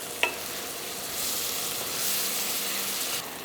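Tomatoes sauté in a pan over low heat, a sharp clink opening onto a soft, even sizzle that swells slightly and holds steady, with no talking.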